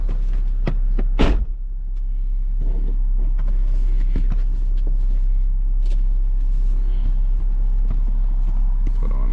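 A BMW 328i E92 xDrive engine hums low and steady while driving, with road rumble underneath and a sharp knock or thump near the start.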